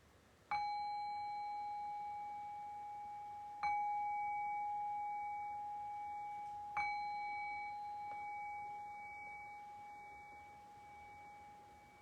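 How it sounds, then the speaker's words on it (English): A meditation bell is struck three times at an even pace in a quiet room, each clear ring sustaining a long, slowly fading tone. "I'll ring the meditation bell, the customary 3 bells."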